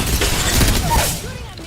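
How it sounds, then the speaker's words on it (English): Gunfire in the battle royale game Apex Legends: a dense burst of shots rattling close and loud for over a second, then fading as a voice talks over the tail. "Shooting at me."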